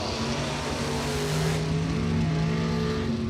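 Race cars roar past side by side on a racetrack, engines droning loud and sustained with a rising, shifting pitch as they run together.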